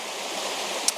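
The South Lawson waterfall gives a steady, even rush of falling water at close range, filling the short moment with broadband white noise and no voices.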